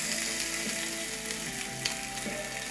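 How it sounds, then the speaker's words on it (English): Fish skin crisps in a hot pan, giving a steady close sizzle and crackle with no voices over it. "I'm going to put the skin in there to crisp up because crispy fish skin is actually really nice."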